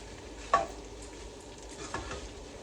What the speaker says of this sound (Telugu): అలా తిప్పుతూ మెల్లమెల్లగా దాన్ని మూత పెట్టేసుకొని అలా రోస్ట్ చేస్తూ ఉండాలి.